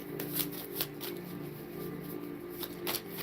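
Tarot cards are shuffled by hand in a steady, soft riffling rhythm with occasional sharper flicks, close up and continuous.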